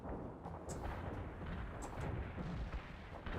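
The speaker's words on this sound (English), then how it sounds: "Little tank exploded," A tank exploding in the video game Conflict, heard as rumbling booms and crackling blasts within dense battle noise, with a few sharp high pops on top.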